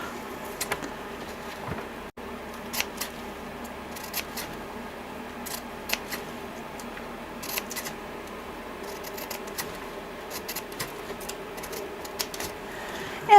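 Scissors cutting out folded paper for a craft rose: quiet, close snips and crisp paper rustles in an irregular rhythm, faint and steady throughout.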